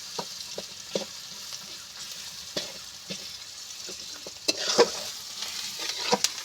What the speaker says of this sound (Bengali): এবার আমি ভালো করে আদা রসুন পেঁয়াজটা আমি ভেজে নেব।